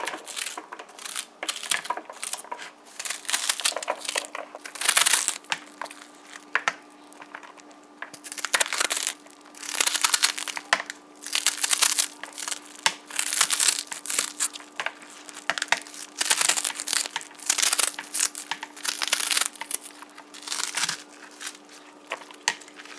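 A kitchen knife slicing through pak choi on a board, with repeated crisp crunching chops in an uneven rhythm, close and clear, continuing steadily with brief pauses.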